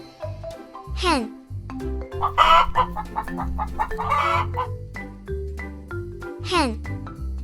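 Clucking from a hen comes in several bursts, mixed with rising crowing-like calls, near and fairly loud, over a steady low background.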